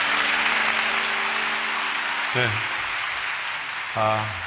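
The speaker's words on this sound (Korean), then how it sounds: "우리 강사님 위해서 박수 한번 하겠습니다" A church congregation at a prayer meeting applauds a guest preacher, a steady wash of clapping with voices rising over it.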